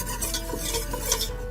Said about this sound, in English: add the flour that we had and keep stirring